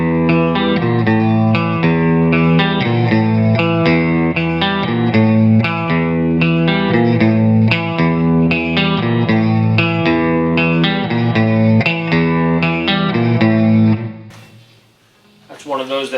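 An electric guitar plays a song intro through effects, a chorused, distorted riff repeating in a steady rhythm for about fourteen seconds before breaking off into a brief quiet shuffle.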